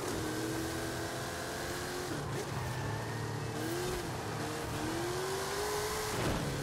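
A Jeep Gladiator racing in Forza Horizon 5, its engine droning and revving loud and close, pitch rising through the gears with shifts between climbs, no talking.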